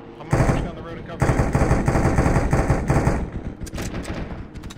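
Close, loud bursts of automatic rifle and machine-gun fire crackle in a long sustained volley in the military shooter game Arma 3, trailing off into scattered shots, with voices talking over the fighting.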